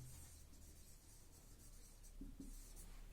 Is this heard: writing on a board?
yes